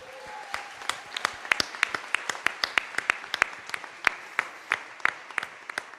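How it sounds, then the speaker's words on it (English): Applause from a conference audience at a closing plenary: sharp, distinct claps in a fairly steady patter that stays moderately loud throughout, with no voices. "A big round of applause for our visual note taker."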